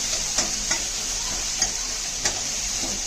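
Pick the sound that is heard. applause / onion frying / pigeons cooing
onion frying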